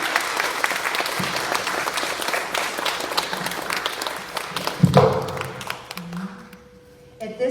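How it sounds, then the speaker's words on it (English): Audience applauding panelists at a gathering, with steady dense clapping from a crowd for about five seconds, then a brief bump of noise and voices before the applause thins out and fades. "please give our panelists a round of applause"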